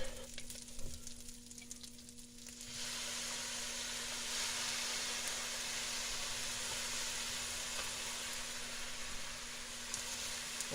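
Rice with a lot of soy sauce sizzles on a hibachi grill inside a van, a quieter start swelling after a few seconds into a loud, steady hiss that continues to the end.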